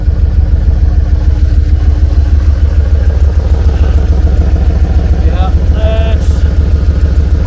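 A Jeep engine runs steadily with a low rumbling idle and clatter, close by, while a person speaks briefly over it.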